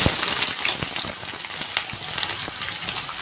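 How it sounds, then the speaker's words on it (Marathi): Cumin and mustard seeds with onion fry in hot oil in a kadhai, giving a loud, close, continuous sizzle with crackling spits throughout. "कढईमध्ये तेल चांगलं गरम झालेलं आहे. आता आपण जिरी मोहरी टाकून घेऊया"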